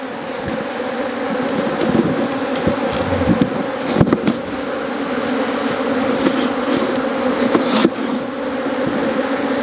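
Honey bees swarm and buzz densely around a hive during a shake-out of an eight-frame box, a steady close droning hum with no voices.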